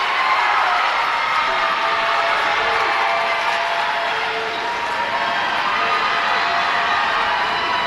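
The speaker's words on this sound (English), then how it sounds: "And the Cathedral crowd is coming alive, trying to get it" A crowd roars steadily at a girls' high school basketball city final, a loud, dense wash of cheering and noise that holds for the whole stretch without a break.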